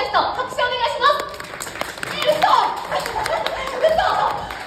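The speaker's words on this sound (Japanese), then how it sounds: "じゃあそう思った人、拍手お願いします。" Audience clapping at a stage event with the mascot Kumamon, scattered light claps mixed with lively chatter and laughter from the crowd.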